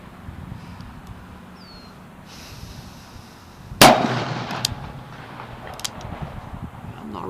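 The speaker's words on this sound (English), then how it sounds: "I think I'm shooting off to the left." A single sharp, loud gunshot from a Smith & Wesson 629 .44 Magnum revolver with a 3-inch barrel, fired outdoors at a range, cracking out midway after quiet ambient noise and followed by faint echoing rumble.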